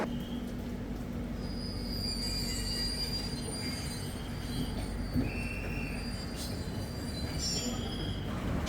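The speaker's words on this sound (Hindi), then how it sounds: "शार्प ऑन टाइम हमारी ट्रेन चल दी है चेन्नई सेंट्रल से" Chennai Ahmedabad Humsafar Express pulling out of Chennai Central, wheels squealing with thin high screeches over a steady low rumble of railcars, moderately distant and continuous.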